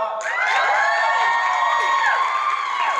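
A convention panel audience cheers and whoops loudly, a dense crowd roar of shouting voices holding steady for the full stretch, with little distinct clapping.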